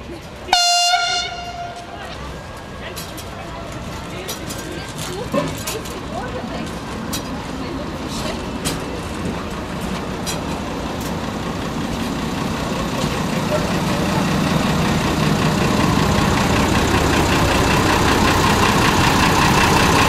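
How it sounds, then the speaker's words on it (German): A rail bus arriving at a Black Forest station, its engine rumble building steadily and then idling, with a horn-like tone near the start and voices speaking briefly over it. "Zug kommt."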